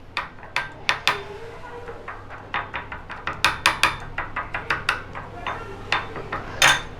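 A spoon clinks and scrapes against a bowl while a tomato juice face pack with tomato pulp is mixed, giving repeated sharp taps in an uneven rhythm, close and fairly quiet, with no talking.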